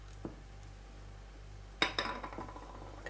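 A spoon stirs soup with milk in a pot, faint metallic clinks and scrapes, one early tap followed by a quick cluster of clinks near the end over quiet background hum.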